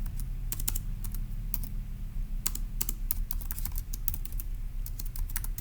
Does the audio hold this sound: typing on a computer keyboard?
yes